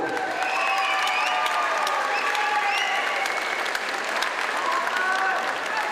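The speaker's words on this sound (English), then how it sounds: "Big round of applause." Sustained applause from an MMA event crowd, steady and dense throughout, with a few whistles and cheers mixed in.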